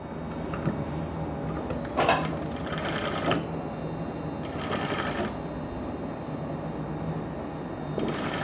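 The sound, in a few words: sewing machine stitching trousers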